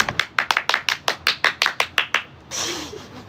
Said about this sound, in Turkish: Alkış yok mu hocam?